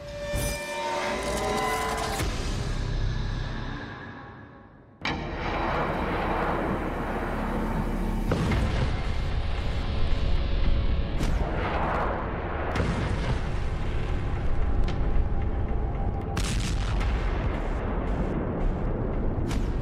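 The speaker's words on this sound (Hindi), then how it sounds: "गजा पट्टी की संकरी गलियां रॉकेट धमाके से दहल गईं।" Rocket explosions in the narrow lanes of the Gaza Strip: loud rumbling blasts and roaring booms follow one another, with a high whining tone at the start and heavy, continuous explosive noise afterward.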